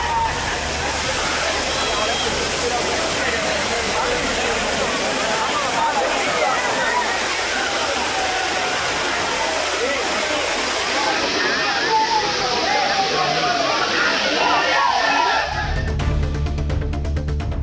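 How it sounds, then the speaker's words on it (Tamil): Waterfalls at Courtallam in full seasonal flow, a loud, steady wash of rushing and splashing water that fills the whole stretch, ending with a brief shift in the roar. "அனைத்து அருவிகளிலும் நீர்வரத்து அதிகரித்து சீசன் களைகட்ட தொடங்கியுள்ளது"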